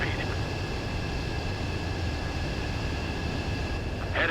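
An F-15 jet approaching to land in Ace Combat 7, a steady loud engine roar and rumble held throughout, with a brief brighter hiss near the end.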